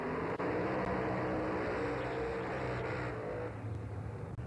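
A brand new Falcon drag racing car sits on the track at Ravenswood Raceway, its engine a steady, dense rumble that stays loud and even throughout with no clear revving changes.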